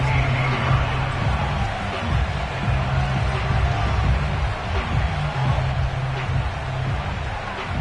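Football stadium crowd at a Bears vs Bills game, a dense, continuous roar of cheering and murmur that stays loud and steady throughout, with no clear individual voices.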